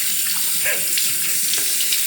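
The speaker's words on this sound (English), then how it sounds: "And I'm just gonna drop a bunch of water here." Water is dropped onto a Vermont green slate hone while a straight razor is honed, heard as a steady running, splashing trickle close to the microphone with no speech.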